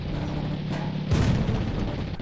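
Artillery fire booms in a tank video game, a dense rumbling barrage with a heavier blast about halfway through, loud and continuous.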